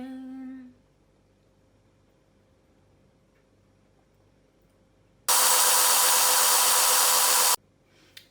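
A stand mixer whisking whipping cream with condensed milk switches on after a near-silent pause and runs as a loud, steady, close whirring drone for about two seconds before cutting off abruptly.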